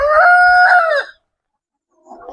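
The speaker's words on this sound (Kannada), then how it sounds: "ಟೋಟಲ್ 100 ಕೋಳಿ ಇದೆ" Rooster crowing loudly and close at a small farm shed housing about a hundred chickens, one long drawn-out call, then brief silence and a soft cluck.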